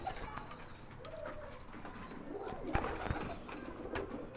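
A male pigeon coos softly at a home pigeon show, low murmuring calls over a quiet background with faint wing and handling noises.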